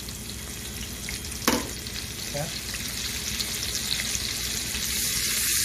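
Onion sizzling and frying in a hot pan, a steady broadband hiss throughout with a sharp clatter as it goes in and a brief spoken word.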